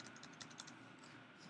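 Quick, light keyboard typing at close range, a short run of soft clicks as a value is entered on a computer keyboard, steady and fairly faint.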